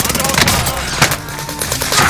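Gunfire in the video game Call of Duty: Modern Warfare, loud, rapid bursts of shots crackling in a dense stream, with voices mixed in.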